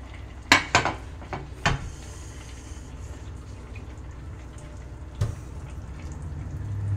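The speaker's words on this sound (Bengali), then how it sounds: "আমি এবার একটা বোলের মধ্যে ঢেলে নেব" Thin papaya and fish curry transferred into a bowl: sharp clinks and knocks of a ladle against metal pots, followed by a faint wet pour and soft liquid sounds.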